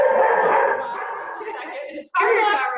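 A dog near a house's front door as someone walks by, its voicing mixed with yips and whimpery tones over a couple of seconds, with speech overlapping.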